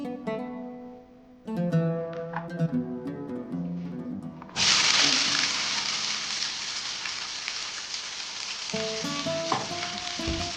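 Oil sizzles loudly in a pan as onion and tomato are added and stirred, a steady bright frying hiss following clattering utensil taps, continuing at close range without talk.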